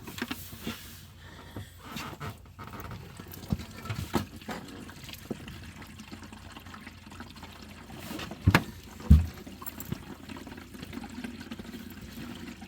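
Windshield washer fluid pouring into a car's reservoir, a soft gurgling trickle with faint splashes and a couple of louder knocks near the end, heard alone without talk.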